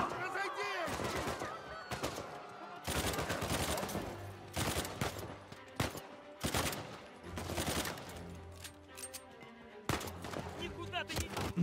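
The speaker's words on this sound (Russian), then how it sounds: "Стрельба!" Bursts of rapid gunfire in Uncharted 4 crackle repeatedly, loud and close, with voices talking over the shooting throughout.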